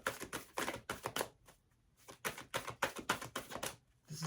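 Quick papery riffling and clicking of tarot cards being shuffled in short bursts, with a brief pause in the middle, close and fairly quiet.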